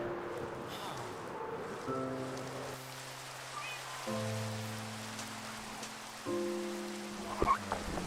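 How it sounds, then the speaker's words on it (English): In a video game, steady rain hisses softly in the background. Low sustained musical tones sit under it, and one brief click is heard near the end. "Stinking rain."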